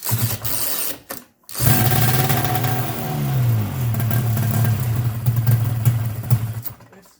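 A 1972 Ski-Doo TNT snowmobile engine sputters and cuts out, then catches and runs loud and close with a buzzing two-stroke drone that rises and falls in pitch before faltering at the end.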